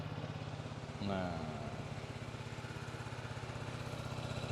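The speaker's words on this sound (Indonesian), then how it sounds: "ini kalian bisa dengerin suara mesinnya ya. Masih stasioner, masih enak banget mesinnya." A Yamaha XMAX scooter engine idles steadily with a fast, even putter, close by, a brief rising whine overlapping early on.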